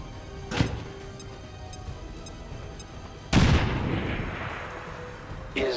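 A grenade goes off in the video game XCOM 2: a loud, sudden blast with a rumbling tail that slowly fades, preceded by a brief thud and quiet ambient game sound, then a second hit at the end.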